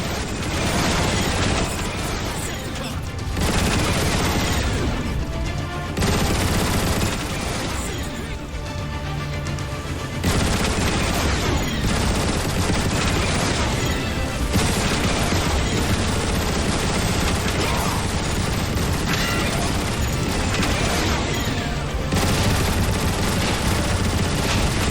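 Turret gun emplacements firing at Decepticon Seekers during an aerial assault in Transformers: War for Cybertron, a dense, loud barrage of rapid gunfire and blasts running nearly nonstop with music, broken by a few short dips.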